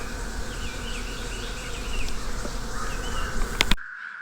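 A honeybee colony hums steadily at the hive with a beautiful brood pattern and the queen present, a dense continuous buzz with individual bees whining past up close, ending abruptly in near silence.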